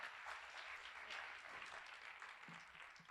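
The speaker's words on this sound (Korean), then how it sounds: "우리 귀한 말씀 전해주신 강사님께 감사의 박수하겠습니다." Audience applause at a Christian summer retreat lecture, steady dense clapping from a seated crowd filling the hall for about three seconds, no speech over it.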